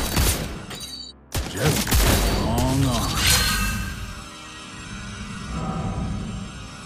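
Gunfire and impact effects in a mobile battle video game, rapid shot bursts and crashes mixed with game voice lines and music, loud and busy before easing off.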